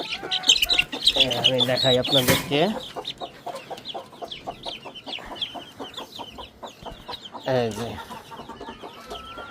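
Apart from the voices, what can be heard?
10-day-old Aseel chicken chicks clucking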